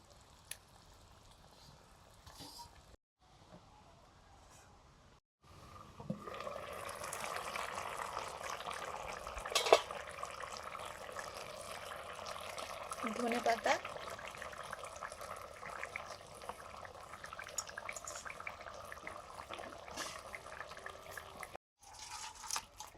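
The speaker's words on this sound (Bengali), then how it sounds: "মাছের ঝোল ঢেলে নিচ্ছে" Fish curry broth with green chillies being poured out in a home kitchen: a steady, soft liquid pour with faint dripping and splashing, fairly close, continuing for most of the stretch, with brief quiet gaps at the start.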